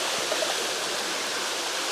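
Steady, full-bodied rushing of a waterfall at Hazelbrook, an unbroken wash of falling water filling the whole two seconds with no voices.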